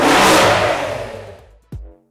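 Engine of Brutus, an old experimental car built just after the First World War, revs in a loud opening roar that fades away over about a second and a half, followed by a brief, sharp burst near the end.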